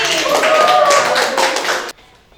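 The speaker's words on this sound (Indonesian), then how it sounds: "Kasih tepuk tangan buat Aldi" Students in a chemistry classroom clap for a classmate, a short burst of hand claps with some voices mixed in, cutting off abruptly near the end into near silence.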